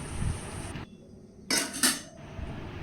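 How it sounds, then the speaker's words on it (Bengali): Metal spoon scraping and knocking against a cooking pot while bottle gourd and moong dal are stirred, with two bright clanking bursts after a quieter pause. "দিয়ে আরও একবার ভালো করে নেড়ে নেব"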